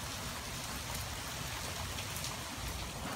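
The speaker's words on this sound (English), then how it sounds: "It's still hailing some" Hail and rain falling steadily during a late-night storm, a dense, constant roar of drops and pellets striking surfaces close by, with no voices.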